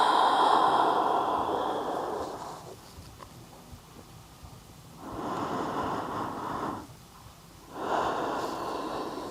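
Deep, audible exhaled breaths during a Vinyasa yoga flow: three long, airy, breathy whooshes, the first the strongest, separated by quiet gaps, close and clear.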